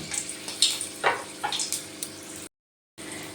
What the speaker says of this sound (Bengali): তেলের মধ্যে দিয়ে দিলাম হাফ চামচ কালো জিরে আর দিয়ে দিচ্ছি একটা কাঁচা লঙ্কা ফোড়নটা ভালো করে ভেজে নিলাম